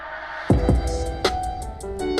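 A rising riser effect swells through a sparse beat with its instruments stripped out, layered over a deep booming low end with a few sharp hits and chimes, continuous and fairly loud.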